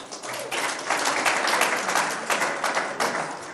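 Audience clapping fills the room, a dense, loud burst of applause from a crowd that swells slightly and continues steadily without talk.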